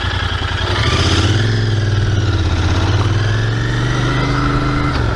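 A motorcycle engine runs steadily during a break-in session. It is loud and close, with a slight rise in revs early on and then an even hum, and no voices.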